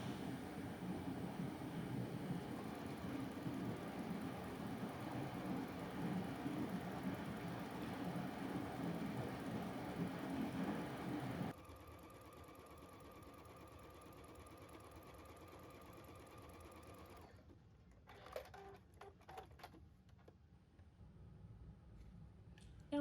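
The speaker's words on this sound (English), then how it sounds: "you'll want to pivot, turn your work, and continue the top stitching" A sewing machine top stitches the seam of a panty, running in a loud, steady whir for about eleven seconds before it stops and leaves quieter handling noises and a few light clicks.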